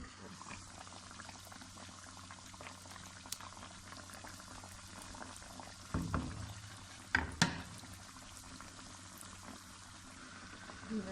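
Sugar syrup heating in a pan on the stove, bubbling softly and faintly at a steady low simmer, with a couple of brief louder clatters partway through.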